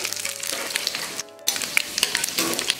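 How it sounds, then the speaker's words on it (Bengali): Bay leaves, dried chilli and five-spice seeds dropped into hot oil, crackling and popping in a busy close sizzle that cuts out briefly for a moment before resuming. "দুটো তেজপাতা ছেড়ে দিলাম, শুকনো লঙ্কা পাঁচ ফোড়ন"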